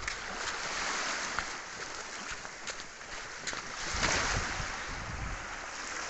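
Sea waves washing onto a seashore under calm, gentle conditions, a continuous close rush of water and foam that swells and recedes, with some wind noise and no talk.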